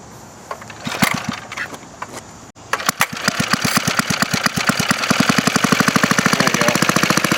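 Small motorized scooter engine catching after a brief silence and revving under throttle, a fast, loud, even chatter of firing strokes that builds and holds close by; a few words spoken faintly before it starts.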